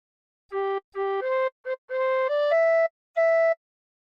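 Tin whistle plays a short Incy Wincy Spider phrase: seven clear, breathy notes, some short and some held, rising then settling on a sustained tone, played alone and close.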